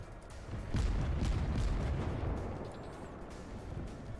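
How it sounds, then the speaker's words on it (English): Anti-aircraft guns blaze in the World of Warships naval game, a dense, rumbling barrage of overlapping booms and bursts that runs steadily throughout without pause. "Come on, anti-aircraft gun, shoot!"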